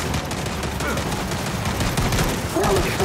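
Dense, continuous turret gunfire from a Gears of War 5 firefight, a sustained loud fusillade of overlapping rapid shots with battle noise and some voices mixed in.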